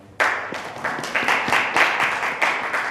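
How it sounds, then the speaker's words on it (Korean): Applause breaks out suddenly from an audience at a university department student council candidate forum, a dense crowd clapping that swells in waves and carries on steadily for a few seconds without talk. "큰 박수로 모시겠습니다"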